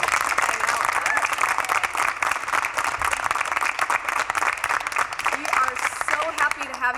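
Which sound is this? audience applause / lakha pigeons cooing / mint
audience applause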